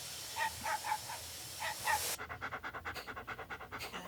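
A dog pants quickly and rhythmically nearby, a steady run of short breathy huffs, following a stretch of faint background chirps and hiss.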